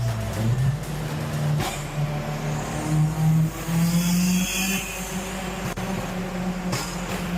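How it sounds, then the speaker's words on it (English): A 900HP Subaru with anti-lag driven on a winding mountain road: a loud engine drone rises and falls through gear changes, with sharp popping backfire cracks near five and a half and seven seconds, heard from inside the car. "Oh, the backfires."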